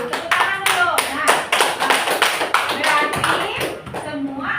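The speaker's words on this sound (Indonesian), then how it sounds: "Tepuk tangan dulu" Children in a classroom clap their hands together in quick, rhythmic bursts, sharp and close, while voices talk alongside.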